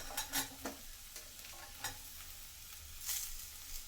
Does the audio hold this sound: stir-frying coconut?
yes